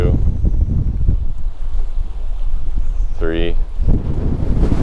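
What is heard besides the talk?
wind blowing on a boat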